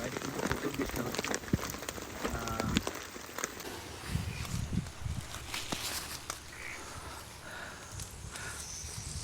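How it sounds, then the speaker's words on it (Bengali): Heavy rain pours at night at a motorcycle campsite, a constant patter and hiss of drops striking nearby surfaces, with occasional rustles and faint taps. "বাইরে বাইরে কিন্তু প্রচুর বৃষ্টি হচ্ছে।"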